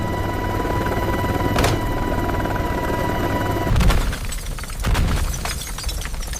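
A helicopter hit by a grenade blows apart amid steady rotor and turbine noise, with a sharp crack followed by heavy, rumbling blasts and debris in the later part.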